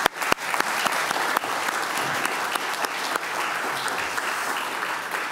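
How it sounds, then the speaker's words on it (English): Audience applause after a talk at a panel discussion on democracy and propaganda, dense steady clapping from a full room that carries on evenly for the whole stretch, with no voices over it. "A round of applause."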